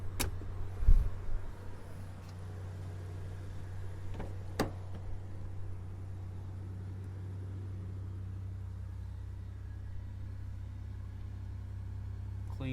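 A 2002 Toyota Tacoma pickup engine cranks and catches with a brief loud burst, then settles into a steady low idle hum that continues evenly to the end.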